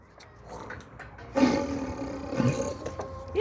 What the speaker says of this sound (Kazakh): Тигрдің дауысы ғой, тигрде қорқатшар иттер.